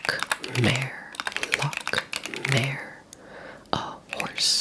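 Fingers tap quickly on a mechanical keyboard in rapid clicky bursts close to the microphone, under soft whispered talk in a quiet room.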